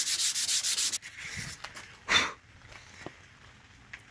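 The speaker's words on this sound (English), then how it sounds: "Let me get some sandpaper right here and show you." Sandpaper rubbing quickly by hand over Bondo filler on a Triumph Spitfire hood, a close run of about eight rhythmic scrapes followed by a single longer stroke and quiet handling noises.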